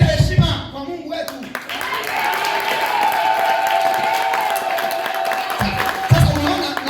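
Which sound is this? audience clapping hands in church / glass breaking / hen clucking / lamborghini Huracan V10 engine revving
audience clapping hands in church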